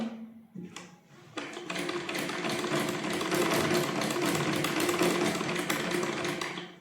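A sewing machine stitches fabric, starting with a few slow stitches and then running at a fast, steady, close mechanical clatter that continues to the end.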